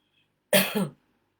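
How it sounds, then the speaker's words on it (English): A single short, sharp cough, close and loud, in otherwise near silence. "He's making me cough, as you can see"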